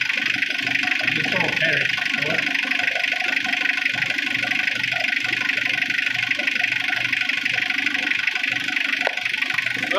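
A Mitsubishi Triton 4D56T diesel engine that sat unused for over ten years runs steadily after its first start, a continuous loud idle throughout with someone speaking briefly over it.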